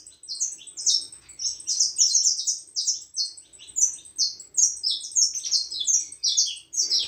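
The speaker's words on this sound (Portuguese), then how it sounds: "Canta muito curtinho esse canário aqui, galera." A canary sings a continuous run of high, rapid chirps and trills in short repeated phrases, close and clear over a quiet background.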